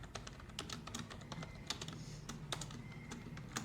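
Typing on a MacBook laptop keyboard, a quick steady stream of soft close key clicks at low volume with no talking.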